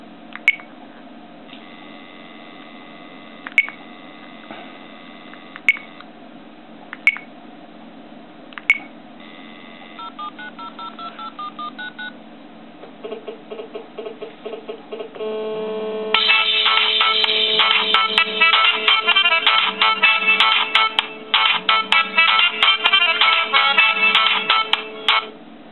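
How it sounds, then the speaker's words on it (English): A Nexus 4 phone in a rubber case is dialed with a handful of sharp, evenly spaced keypad beeps. Steady electronic tones follow, then a loud, dense ringtone plays continuously through the final stretch. "It's on the phone, and I'll try ringing it again."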